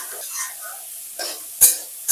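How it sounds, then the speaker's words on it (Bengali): Turmeric and spices are stirred into frying sabudana pulao with potato, carrot and capsicum: a soft sizzle under brief scraping strokes of a spoon, ending in a sharp utensil knock against the pan. "আবারও মশলার সঙ্গে ভালো করে মিশিয়ে নেব।"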